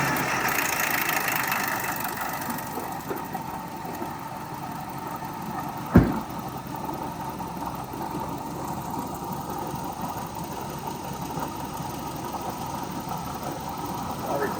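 A 1986 Toyota SR5 extra-cab pickup engine idling just after starting, a steady low rumble throughout with one sharp knock or thump midway.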